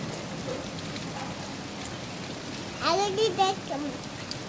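Rain falls steadily as a soft, even patter outdoors while a bird is out in it, with brief chirps and a voice appearing near the end.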